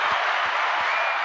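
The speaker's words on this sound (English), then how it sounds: "let me give you a round of applause, Barry" A dense round of applause from a group, a steady wash of clapping with no breaks, fairly close and loud, carrying on to the end; a few faint low thumps sit underneath.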